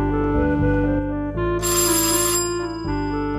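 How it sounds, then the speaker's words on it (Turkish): An electronic doorbell rings at a girl's apartment door in the Turkish sitcom Bizimkiler. Its melodic chime tones sound loud and sustained for several seconds, with no talking. "Çal şu kızın kapısını koçum"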